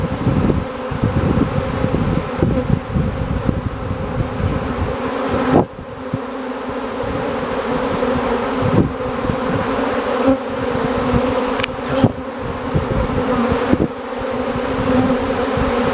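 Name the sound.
honeybee swarm buzzing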